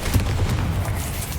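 Confringo fire-blast spells burst in Hogwarts Legacy combat, with dense booming, crackling impacts rolling continuously through a loud, busy battle and no talk.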